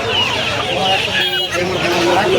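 Chickens cluck and chatter close by at a busy poultry and pet market, with several birds overlapping and people talking nearby.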